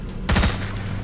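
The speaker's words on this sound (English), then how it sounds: "I was shooting." A short burst of rapid gunfire from S.T.A.L.K.E.R.: Shadow of Chernobyl, several quick close shots packed into a fraction of a second, then low background hum.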